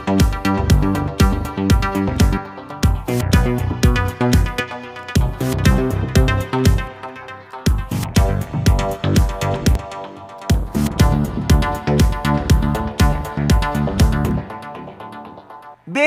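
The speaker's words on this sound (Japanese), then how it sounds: "こんな感じに リズムセクションが指一本で弾けるわけです" A nylon-string guitar rhythm section from the UJAM Silk 2 plugin plays steady, plucked chords over bass notes in a repeating pattern for about sixteen seconds, loud and close with no talking.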